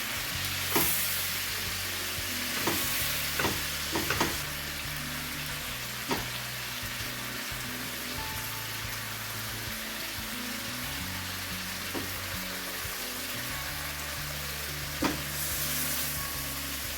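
Chicken pieces frying in a pan, a continuous broadband sizzle with occasional sharp clicks and taps as pieces are turned to cook the other side, close up and without speech.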